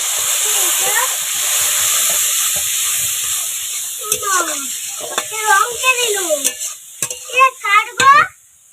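Spice masala with green chillies, turmeric, chilli powder and salt sautéed in a pan for crab curry, a steady close sizzle and hiss with scraping stirs, while someone talks over it and birds chirp in the background.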